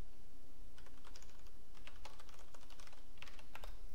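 Rapid, irregular clicks of a computer keyboard as code is typed, coming in quick bursts with short pauses, close and fairly quiet with no voices.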